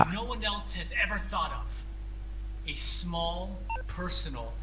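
A phone is dialed inside the video game GTA V, with a few short electronic beeps breaking through a steady low hum while someone talks over them.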